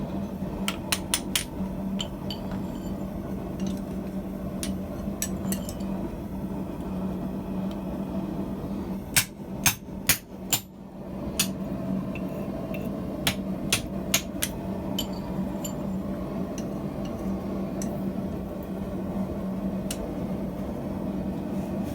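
A hammer strikes a punch made from a coil spring to form a slot in hot steel. Sharp metallic blows land in scattered bursts and quick clusters, some loud and close, with a steady background hum between them.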